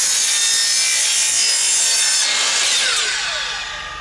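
Sawmill blade cutting through a rare cherry log, a loud, continuous bright whine of sawing through wood, close by, fading slightly at the end.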